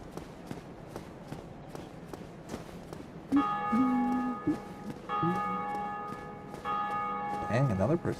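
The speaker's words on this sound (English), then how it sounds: "another person hit the bell too" A bell struck repeatedly during a livestreamed game, ringing out in several sustained metallic tones that rise over a busy background of rapid thumps and shuffling, fairly loud and close.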